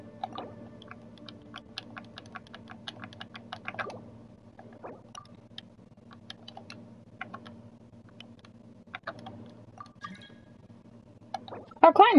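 Rapid, irregular clicks of someone typing on a computer keyboard during a co-op online game session, light keystrokes in bursts with pauses, close and fairly quiet, with a louder clatter at the end.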